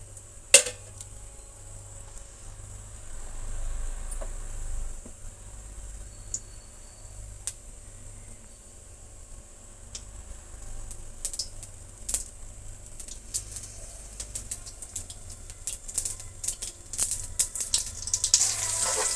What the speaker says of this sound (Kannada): ಈಗ ಸ್ವಲ್ಪ ಸಾಸಿವೆನ ಸೇರಿಸ್ತಾ ಇದ್ದೀನಿ. ಫ್ರೈ ಆಗಲಿ, ಸಾಸಿವೆ ಸಿಡಿಸಿಡ ಅನ್ನಬೇಕು.